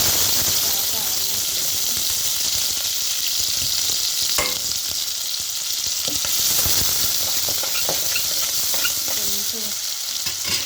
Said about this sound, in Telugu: కొంచెం జీలకర్ర వేస్తాను.